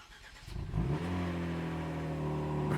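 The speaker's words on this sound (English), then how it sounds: "here's a true remote cold start after the exhaust has been done." Remote cold start of a Kia Stinger with a straight-piped exhaust: the starter catches and the engine flares to a revving burst, then settles into a steady humming idle, recorded close by and with no talking.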